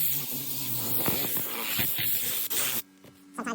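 Seat shampoo spraying onto a fabric car seat during an interior detail, a steady close hiss running almost three seconds with faint handling clicks, then stopping abruptly into near silence.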